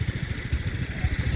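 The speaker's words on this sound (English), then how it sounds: "the single wheel one here is a homemade tractor" A homemade single-wheel tractor engine runs steadily at the Lime Valley engine works tractor show, a close, rhythmic low chugging thump with a mechanical clatter, alone without talk.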